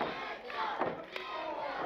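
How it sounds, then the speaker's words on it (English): A wrestling crowd at a Voltage Wrestling match cheers and roars steadily throughout, a loud, dense wash of many voices with a few sharper shouts rising out of it. "The crowd really getting behind young Tom Mitchell."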